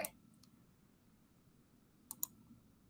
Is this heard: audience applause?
no